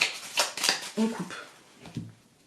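A tarot deck is cut and shuffled, giving quick papery riffles and slaps in short bursts, close up, with a voice speaking French in brief moments.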